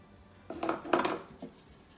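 Flour tapped and shaken around inside a greased 8-inch Bundt pan for a chocolate malt cake, giving a few close metallic clanks and rattles in a short burst, with quiet before and after.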